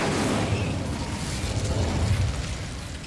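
Incendio fire spell cast in Hogwarts Legacy, a dense roaring burst with low rumbling bursts, loud and sustained for a few seconds without any voices.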